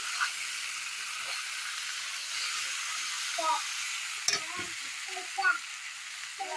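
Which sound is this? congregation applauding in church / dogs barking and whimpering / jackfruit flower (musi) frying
jackfruit flower (musi) frying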